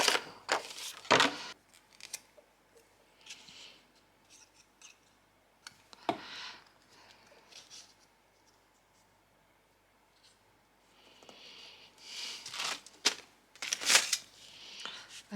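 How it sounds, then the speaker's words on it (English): Scissors snipping through paper while cutting out scrapbooking pieces, close and crisp: a quick cluster of cuts at the start, isolated snips, then another burst of cutting near the end, with soft rustling between. "I'm just gonna cut it out with my scissors"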